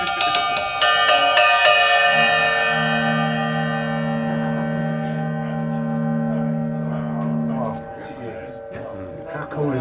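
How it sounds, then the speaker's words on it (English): Paiste 13-inch heavy bell cymbal struck several times in quick succession, then left ringing with a long, bright, sustained metallic tone that slowly decays while a low hum sits underneath. "Now this heavy bell cymbal, and it does get a clobbering in the maiden show"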